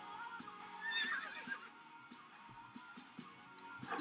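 An old Arabian horse in the Star Stable Online game gives a brief whinny, faint and distant, with occasional soft hoof clicks around it.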